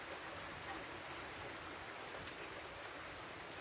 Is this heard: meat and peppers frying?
no